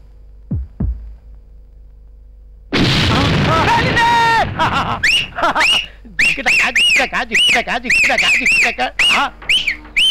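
A few faint low thumps, then a loud burst of noise followed by shrill, warbling cries and squeals that keep repeating to the end.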